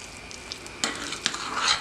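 A spoon stirs cherry filling for a chocolate cake until smooth. A few quiet, brief scraping clicks come in short bursts, with no one speaking.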